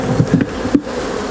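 Honeybees buzz in an open AZ hive as frames are lifted out for inspection, a close, continuous hum with a few louder swells as individual bees pass near.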